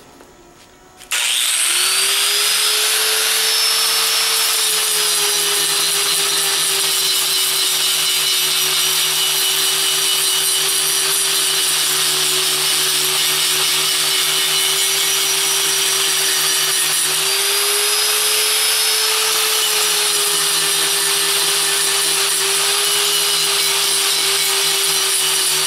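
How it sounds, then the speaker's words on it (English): An angle grinder running steadily on a cast aluminum rocker cover spins up sharply, then holds a loud, continuous high whine with a slight dip in pitch partway through as it bites into the metal, and no one speaks. "with my normal, you know, aluminum grinder here, I'm just going to grind it off"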